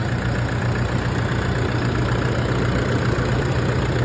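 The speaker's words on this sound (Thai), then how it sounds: "ฟังเสียงเครื่องเงียบเลยนะคะ" A 2012 Toyota Vigo Champ pickup's 2.5-litre engine idles steadily nearby, a smooth even rumble with a faint ticking rhythm and no voices.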